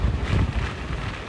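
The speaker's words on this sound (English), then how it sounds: "It's the combination of these hurricane-force wind gusts, also the rain" Hurricane Milton's gusts batter a microphone outdoors in Florida, a loud, steady roar of wind buffeting with no voices.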